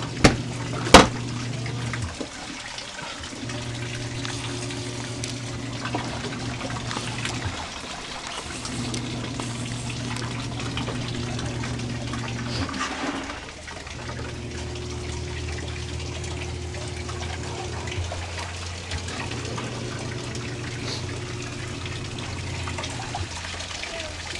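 Water running into a washing machine at a house setup, a steady trickling pour with a pump-like hum underneath that holds throughout, broken by brief pauses and a couple of sharp clicks near the start.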